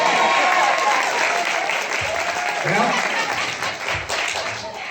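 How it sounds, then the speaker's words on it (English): A crowd at a tribute concert claps and cheers loudly at first, the applause thinning out as a voice begins speaking over it. "By applause, do you want to see us do it?"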